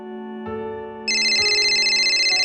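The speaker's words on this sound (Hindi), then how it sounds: "आदि का फोन।" A mobile phone's ringtone starts as a soft tonal chime, then jumps into a loud, bright, repeating electronic pattern that continues without pause.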